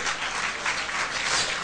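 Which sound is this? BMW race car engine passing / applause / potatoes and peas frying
applause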